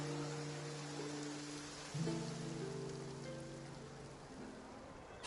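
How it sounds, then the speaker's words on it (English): Steady rain falls in the Genshin Impact video game, a dense, even wash of sound with low musical tones drifting underneath throughout. "It rained for longer than I suspected."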